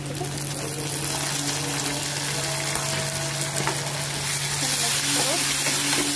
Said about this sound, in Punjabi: ਇਹਦੇ ਵਿੱਚ ਹੁਣ ਅਸੀਂ ਪਾ ਦਾਂਗੇ ਟਮਾਟਰ ਤੇ ਮਿਰਚਾਂ